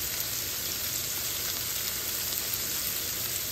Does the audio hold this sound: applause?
no